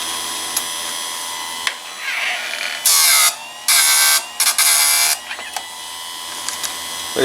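A Harbor Freight electric chainsaw sharpener grinds a chain, with three or four short, loud bursts of high grinding whine separated by brief pauses over a low motor hum, close by and without talk.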